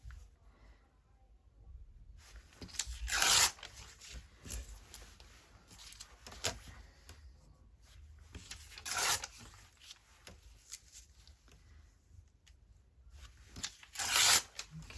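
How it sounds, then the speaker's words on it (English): Paper torn by hand around a printed script while making handstitched scrap booklets, coming as a few short ripping bursts that stand out over quiet handling and rustling between them. "So I'm just going to tear around the script on that one."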